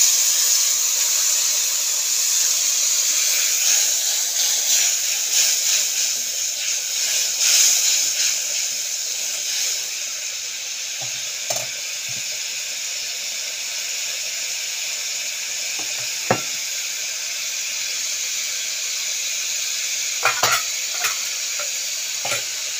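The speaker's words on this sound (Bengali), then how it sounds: "আমি অল্পই হলুদের গুঁড়ো আর লঙ্কার গুঁড়ো এটাকে আমি তেলের মধ্যে দিয়ে দিচ্ছি" Turmeric and chili powder sizzle steadily in hot oil for a fish dish, a dense continuous hiss with a few sharp crackles and pops, close and alone.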